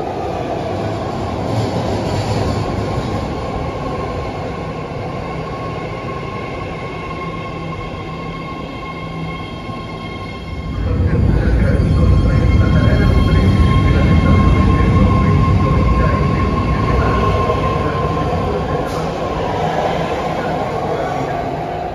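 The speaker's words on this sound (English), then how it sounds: "if you ride BART today, you'll catch one of these, a so-called Fleet of the Future train." A BART Fleet of the Future subway train built by Bombardier and Alstom in San Francisco rumbles steadily, growing louder and rougher halfway through as it picks up speed, with a faint high whine above the noise.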